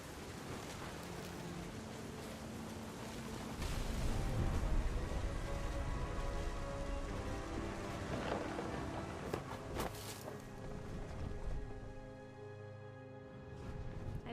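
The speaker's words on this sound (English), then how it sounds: "The thunder sounded much too close and full of angry power." A thunderstorm with steady rain in the video game What Remains of Edith Finch: a dense, even wash of rainfall that swells slightly partway through, with soft tonal music underneath and no clear thunder crack.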